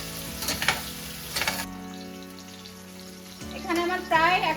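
Rohu fish frying in hot oil in a home kitchen, a steady crackling sizzle with louder bursts near the start and again toward the end, with a low hum underneath.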